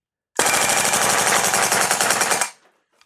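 VFC AKS74U gas blowback airsoft rifle firing on full auto, a loud, rapid, unbroken burst of sharp mechanical reports lasting about two seconds, then cutting off abruptly.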